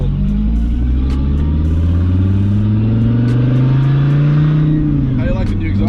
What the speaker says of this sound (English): How do you like the new exhaust? Oh, it sounds good.